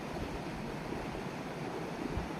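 River ambience by a forest riverside where people fish, a steady broadband wash of flowing water with soft wind, continuous and even, no voices.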